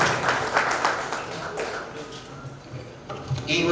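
A seated audience at a book release and felicitation event claps in a continuous, moderately loud patter with a dense spread of hands, fading slightly before a few sharper claps at the end.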